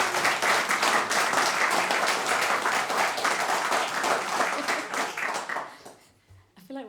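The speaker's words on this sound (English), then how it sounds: "Please give a round of applause." Audience applause at a live concert in a studio venue, dense sustained clapping from a crowd that fades away near the end, followed by a brief bit of near voice.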